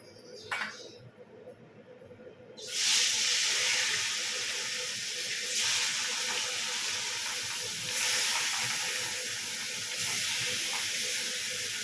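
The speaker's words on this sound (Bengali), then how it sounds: "আমার তেল গরম হয়ে গেছে, আমি মাছগুলো দিয়ে ভালো করে ভেজে নেবো লাল করে।" Fish rubbed with salt and turmeric drop into hot oil and burst into a loud, steady sizzling hiss that carries on, swelling now and then as the pieces fry; a few soft clinks come just before.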